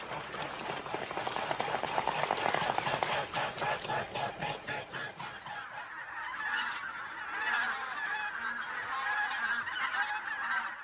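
Bean geese and greater white-fronted geese honking in a large flock on the Morava river floodplain in autumn, a dense continuous chorus of overlapping calls, loud and busy at first, then steadier and slightly more distant.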